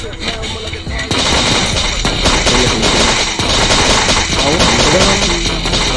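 Machine-gun fire in the zombie video game Bad 2 Bad, dense, loud rapid bursts of shots running continuously with game effects layered underneath.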